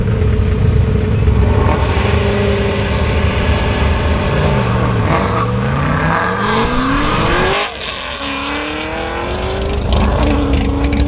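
A twin-turbo Ford Crown Victoria with a junkyard engine races a Corvette at a drag strip, engines roaring loudly with repeated rising rev sweeps through gear changes, a brief dip, then another hard climb.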